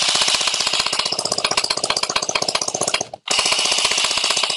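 A custom CQB M4A1 gel ball blaster with metal gears and barrel fires loud rapid-fire bursts outdoors at targets, a steady mechanical chatter of shots broken by one short pause before the burst resumes.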